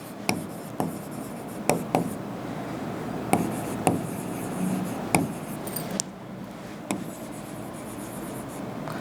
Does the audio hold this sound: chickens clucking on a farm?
no